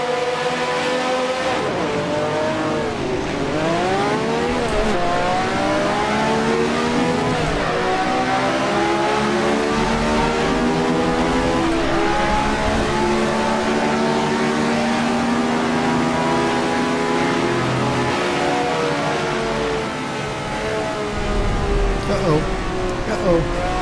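A 1967 Ferrari 312/67 race car in Assetto Corsa at historic Monza screams at high revs throughout, its engine pitch climbing and dropping through gear changes as the car laps, loud and close.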